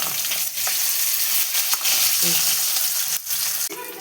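Anchovies frying in a pan, heard as a loud continuous sizzle close up, with scraping stirring sounds and a few clinks over it and no speech.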